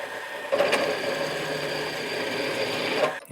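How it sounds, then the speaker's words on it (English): A Woodward Fab drill press spins a hole saw through metal for an old shock mount, a close steady whining grind lasting about two and a half seconds before the cut ends and it spins down. "It is a Woodward Fab drill press."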